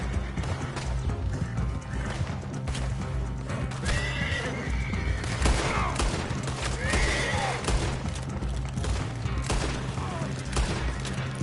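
Horses neigh and whinny amid hoof clip-clops in the Red Dead Redemption 2 video game, with gunfire and busy game sounds layered densely throughout.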